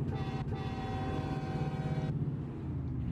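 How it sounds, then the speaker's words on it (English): Train horns fitted to a Volvo truck in American Truck Simulator blare as a sustained multi-tone chord, with a short break near the start, then cut off abruptly toward the end, leaving a low engine rumble. "Why you'd put train horns on a Volvo, I don't fucking know."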